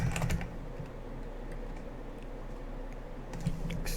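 Steady typing on a computer keyboard while setting up a game server, a quick stream of close keystroke clicks over a low background hum with brief louder clatters at the start and end.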